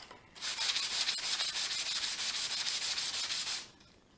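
Wood pencil box parts for a cargo crate style box being sanded with 220 grit sandpaper, a steady, close, fast scrubbing rasp that runs about three seconds without pause.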